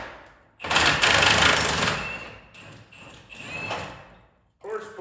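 An impact wrench rattles loudly up close as it works a 3/4-size core support nut on a 1979 Camaro Z/28, a long burst followed by shorter bursts in a garage.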